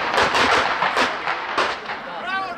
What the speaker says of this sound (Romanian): Pa nisu bombe, nego petarde!